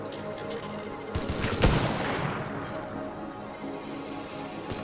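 Rocket launcher fired in a robot-fighting video game, a sharp blast followed by a rushing, fading roar over a dense, busy game soundscape.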